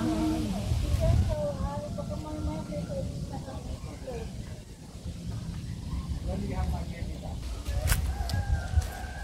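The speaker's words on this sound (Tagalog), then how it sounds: "dinig nyo ba ang mga tilaok ng manok" Roosters crow repeatedly outdoors in the morning, their calls clear and fairly close, mixed with a person talking and rustling background noise.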